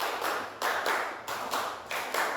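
A classroom of students claps a rhythmic pattern of four quick claps, done twice, the bursts sharp and close together with brief gaps between groups.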